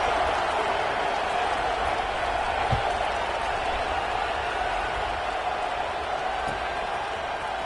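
A football stadium crowd roars as a steady, dense wash of noise through the whole stretch, with a broadcast commentator's voice likely mixed under it.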